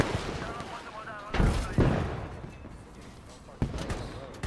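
Mortar rounds and gunfire in the tactical shooter game Squad, several heavy booming impacts at irregular intervals with louder blasts near the middle and end, under excited player talk.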